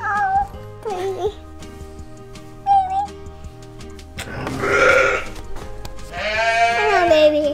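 Sheep on a small farm bleating in a few loud, close calls, a short cry near the start and longer wavering bleats later, with talk between the calls.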